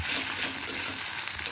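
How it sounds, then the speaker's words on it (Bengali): Ginger, onion, garlic and dried and green chillies fry in a pan with a dense, even hiss of oil, close and continuous without voices. "এবার কিছুক্ষণ এটাকে আরও একটু ভাজবো"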